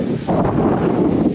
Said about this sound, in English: It's starting to blow a gale here.